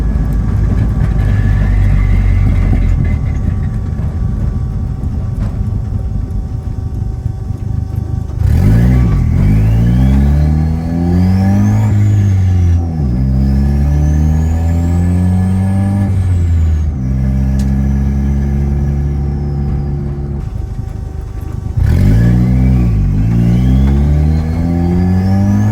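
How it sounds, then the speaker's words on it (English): Ford Festiva with an EcoBoost engine swap starting on a new wiring harness, then idling loudly up close and revving repeatedly in rising and falling sweeps, with a steady whine beneath. "here is the Festiva starting on the new harness"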